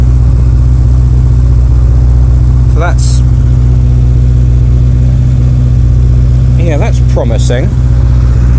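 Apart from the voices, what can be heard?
engine fast idling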